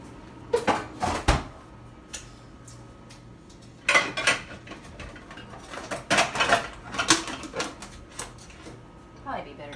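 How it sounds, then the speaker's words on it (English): A knife or server cuts through a chocolate chip cookie ice cream pie in its dish, giving several close clinks, scrapes and knocks in irregular bursts, with people talking over it. "Now let's cut a piece."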